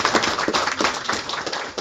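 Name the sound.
audience applauding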